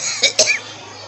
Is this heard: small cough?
yes